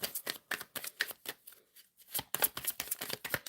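A deck of tarot cards being shuffled during a live reading, with quick riffling bursts repeating in a steady rhythm, close and clear, interrupted by one brief pause.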